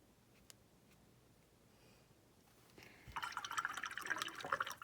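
Water splattered onto a watercolor painting of palm trees, a burst of wet pattering and dripping that starts after a few quiet seconds and grows denser toward the end.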